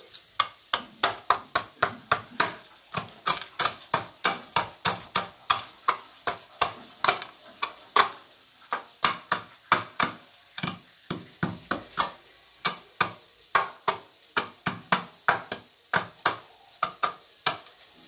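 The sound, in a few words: crushing food ingredients with a kitchen tool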